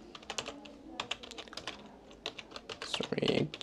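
Rapid typing on a computer keyboard while entering a ChatGPT prompt, a steady run of close, crisp key clicks with a louder burst near the end.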